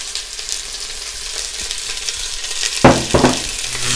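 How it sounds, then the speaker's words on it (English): Chilies, garlic, ginger and onions fry in coconut oil in a pot with a steady, close sizzle and crackle, broken near the end by two louder stirring scrapes and a thicker burst of frying. "We will add our chilies, garlic, ginger and our onions to the pot and sweat them for a few minutes."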